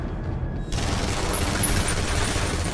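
Heavy gunfire from the X-Men Origins Wolverine video game, a continuous roaring barrage of automatic fire and booms that swells after a brief quieter start, loud and close, no talking.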